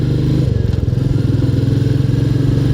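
A Royal Enfield Meteor 350 motorcycle cruises at about 60 km/h on a busy road, its steady low engine thump and exhaust drone running loud and close with a constant pulsing rhythm.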